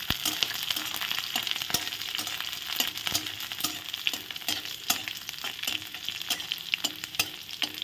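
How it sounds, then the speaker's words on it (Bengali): Garlic fries in hot oil with dried red chili and black cumin, a steady close sizzle and crackle broken by the repeated scrape and clink of stirring, with no voices. "প্রথমে রসুনগুলো ভেজে নেব।"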